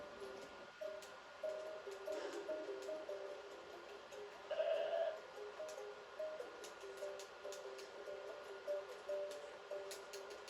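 A goat-like bleat rises briefly midway over a steady, humming game soundscape with faint tonal layers, then the ambience continues evenly.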